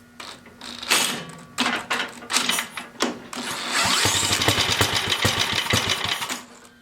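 An old hand tiller's small engine being started: several short pulls and sputters, then the engine catches and runs with a steady, rattling chug close by, before dying away.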